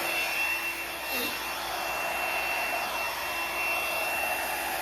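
A blow dryer blowing paint across a canvas roars steadily up close, a continuous whooshing rush of air with no pauses and no voices.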